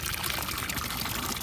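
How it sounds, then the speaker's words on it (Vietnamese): Water pours and splashes steadily while freshly gathered snails are rinsed outdoors, a close, continuous trickling wash for a brief moment. "Bây giờ mình rửa lại."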